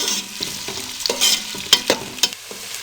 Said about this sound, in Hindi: अब प्याज़ों को हम 3 से 4 मिनट हल्का सा भून लेंगे।